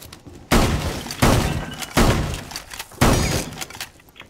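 Four loud shotgun blasts splinter a wooden barricade in Rainbow Six Siege, each a sharp crack with crunching, shattering debris, spaced roughly three-quarters of a second apart, close and forceful.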